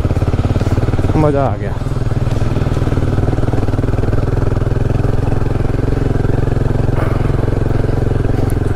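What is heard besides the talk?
Royal Enfield Himalayan 450 motorcycle riding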